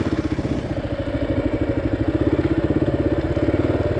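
A motorcycle engine running close by with a rapid, uneven pulsing chug and crackling pops in its exhaust, the rhythm loping like a rough idle, loud and steady with no talk over it.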